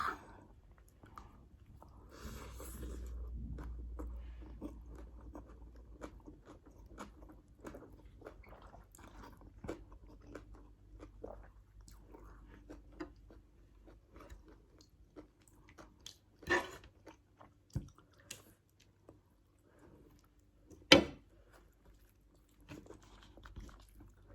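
Close, crunchy chewing and biting of Thai som tam papaya salad with khanom chin rice noodles and plenty of vegetables. Soft wet mouth sounds come in irregular bursts, with a few louder crunches near the end and no talking.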